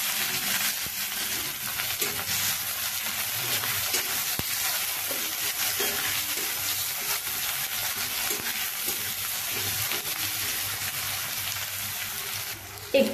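Chopped onions with a bay leaf and five-spice fry steadily in a pan, a dense continuous sizzle close up with faint stirring, no talk.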